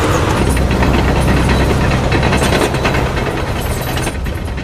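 A T-54 tank crosses a bridge in wartime Vietnam with a loud, heavy engine roar and a dense, steady mechanical clatter that stays close and constant throughout.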